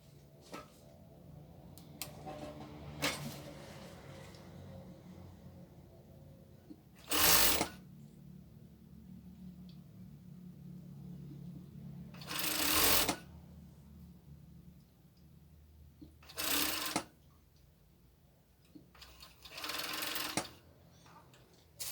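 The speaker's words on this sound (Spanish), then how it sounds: "vamos a coser también de forma ovalada, uniendo costura con costura" Sewing machine stitching a crop top, running in four short loud bursts of rapid whirring a few seconds apart, with quiet handling of fabric between them and no talk.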